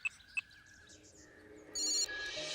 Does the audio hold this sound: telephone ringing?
yes